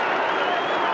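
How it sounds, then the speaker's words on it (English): A college lacrosse crowd at a Syracuse Orange versus Maryland game cheers and applauds, a brief, dense wash of noise from many people. "The crowd trying to urge the Orange back into it here in the latter stages of the first half"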